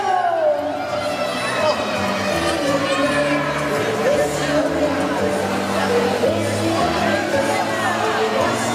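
A studio audience cheers on someone dressed as Santa Claus, a dense crowd roar of shouting and chatter that stays loud and continuous, with voices layered through it.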